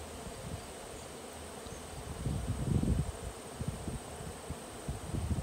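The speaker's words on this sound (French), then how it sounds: "il y a un amas d'abeilles au bout de l'arbre" A swarm of honey bees clustered at the end of a tree branch buzzes steadily, a continuous low drone that swells louder in the middle, with faint rustling and a high steady hum in the background.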